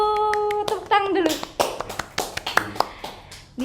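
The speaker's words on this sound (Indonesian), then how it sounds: "Tepuk tangan dulu." A few people clap in short, uneven bursts in a podcast studio, sharp close hand slaps scattered over a couple of seconds, with a voice talking at the start.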